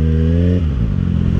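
A sport motorcycle downshifts with a throttle blip: a loud, close engine drone drops sharply in pitch partway through, then settles into a rougher, lower running note.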